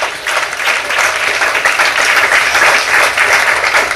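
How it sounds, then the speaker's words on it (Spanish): A church congregation applauds during an evening service, a loud, steady wash of clapping from many hands that fills the whole stretch without a break. "Denle un aplauso al Señor en esta noche."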